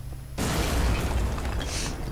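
Explosives detonate in the video game Deadfall Adventures: a sudden loud blast, then a dense roaring rumble that holds steady for nearly two seconds. No voices are heard.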